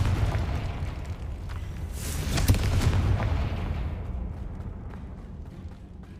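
A fiery blasting-spell explosion in the Hogwarts Legacy video game erupts as a rumbling boom with crackling debris, swelling in the middle and fading into a low roar.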